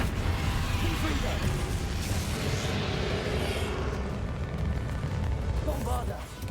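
Fire-blast Confringo spell explosions from the video game Hogwarts Legacy, a dense, loud, continuous roar of booming bursts and rumbling combat noise, with voices mixed into the battle.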